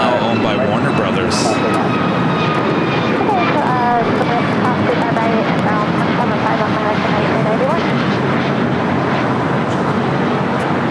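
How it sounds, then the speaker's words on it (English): A United Airlines Boeing 737 MAX 9 takes off at LAX, its engines a loud, continuous roar that fills the whole stretch, with voices talking over it. "That was United Airlines Flight 2039 heading to Chicago O'Hara, 737 MAX 9."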